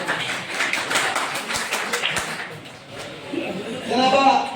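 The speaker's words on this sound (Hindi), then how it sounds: "ताली बजा दें, कंजूसी की जरूरत नहीं है।" An audience at a formal honouring ceremony claps for about two seconds, with brisk, crowded hand claps. Speech then takes over and the clapping fades under it.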